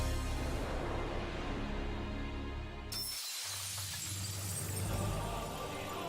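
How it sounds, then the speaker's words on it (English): Glass shatters in Final Fantasy XIV amid dense, loud game music and effects: the sound drops out briefly, then a bright, sustained shimmering crash of breaking glass fills the mix. "Ah, the shattering glass, man."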